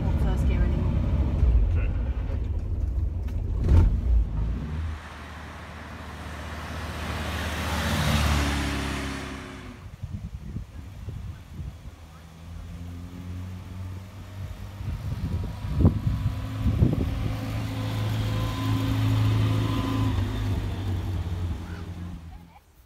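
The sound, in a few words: 1970 Morris Minor car driving, engine running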